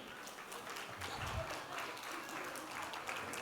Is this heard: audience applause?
yes